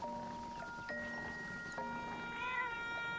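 A cat in The Legend of Zelda: Echoes of Wisdom meows once, a bright, wavering call near the end, over steady sustained game-music tones.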